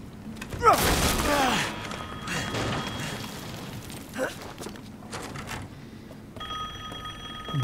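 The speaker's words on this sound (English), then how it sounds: "The phone's ringing." A telephone rings in the horror game Resident Evil Village, with a steady electronic trill near the end of the stretch under dull thuds, mechanical clatter and ambient rumble.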